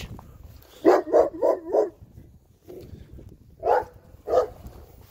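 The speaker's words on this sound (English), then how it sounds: "The dog won't stop barking." An excited dog barks in a quick burst of four close, loud barks, then pauses and lets out two more single barks, with a soft whine between them.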